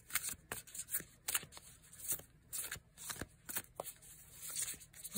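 Playing cards shuffled by hand in repeated quick riffles and taps, close and fairly quiet, with no talk over them.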